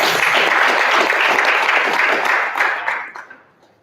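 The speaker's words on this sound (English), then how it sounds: "We can give him another round of applause." An audience at a stakeholder meeting on cost of living and poverty in Zambia claps together in a dense, lively burst that thins out and fades over the last second, with no speech.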